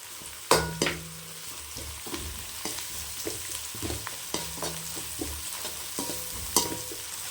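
Onions sautéing in a pan for Tamil mutton chukka, a low sizzle broken by repeated spatula knocks and scrapes, with a sharp clatter near the start and another near the end.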